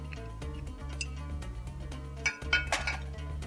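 A spoon stirs apple and kiwi sauce for steak in a bowl, giving a few light clinks and taps against the dish over a low steady hum, close and fairly quiet.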